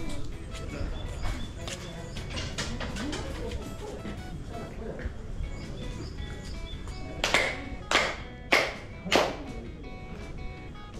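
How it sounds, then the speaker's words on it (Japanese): Four sharp ritual hand claps at the main hall of Izumo Taisha shrine, evenly spaced about half a second apart, standing out above a murmur of crowd noise and faint background voices. "なんか4拍手だったね。"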